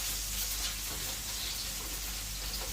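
Onions frying in a pan for a chicken and shrimp paella, a dense continuous sizzle that stays loud and steady throughout, close up with no voices.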